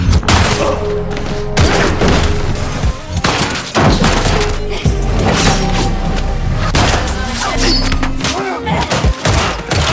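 Loud, dense bursts of gunfire mixed with heavy thuds and booms, a chaotic action-scene barrage that keeps going without pause.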